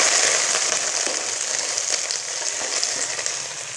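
Capsicum and onion cubes frying in oil in a pan, a steady loud close sizzle that holds for the whole stretch without a break.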